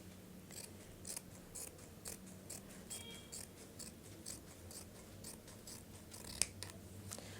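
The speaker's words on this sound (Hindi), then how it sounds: "इधर से पॉलीथीन को काटना शुरू करेंगे।" Scissors snipping through a thin plastic polythene vegetable bag, a quiet run of repeated crisp cuts with soft rustling, close and alone.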